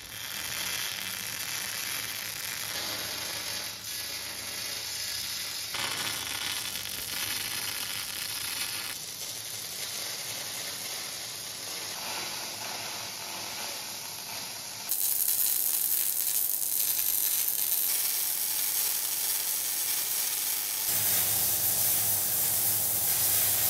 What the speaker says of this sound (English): So I can weld them on now.